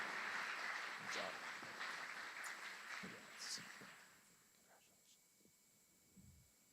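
Applause for graduates at a military aviation brigade graduation ceremony at Fort Eustis: a broad wash of clapping from a crowd that gradually thins and fades, with voices faintly mixed in.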